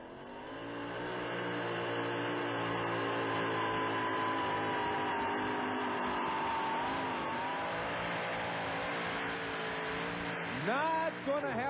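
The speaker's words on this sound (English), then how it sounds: "Did not have a real good sound to that engine as it came up the track." A loud, sustained monster truck engine roar straining under heavy load pulling a sled at a 1991 show in Uniondale, NY, droning steadily before revving and wavering near the end.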